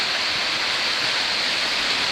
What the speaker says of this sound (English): I am approaching the Juney Whank Falls in the Deep Creek area.